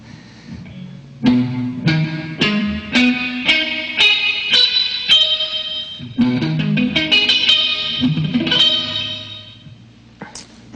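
Electric guitar with effects plays a series of rising minor arpeggios, notes ringing in clear repeated phrases with reverb, no voices.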